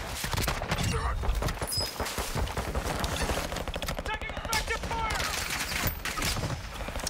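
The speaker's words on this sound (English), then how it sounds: "Taking effective fire!" Dense, continuous gunfire in a first-person shooter match, overlapping rapid shots with scattered game effects, loud and near throughout.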